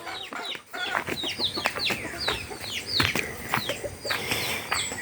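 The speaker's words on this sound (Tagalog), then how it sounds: "Kumusta ang aking mga manok?" Backyard chickens cluck and squawk in a busy, overlapping chorus, with sharp rising calls, scattered wing flaps and scratching close by, continuous throughout with no speech.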